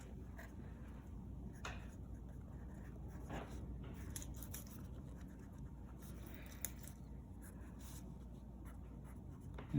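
Pencil scratching across a math worksheet in a classroom, a faint steady scribbling under low room noise with a few brief louder marks.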